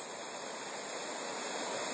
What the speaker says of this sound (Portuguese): Eis a Cachoeira do Abismo. Um abismo de mais ou menos 60 metros.